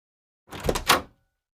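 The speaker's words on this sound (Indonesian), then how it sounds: "Ya udah, aku bukain pintu ya." A front door in an animated cartoon house opens with one short, clean sound of about half a second in otherwise silent surroundings.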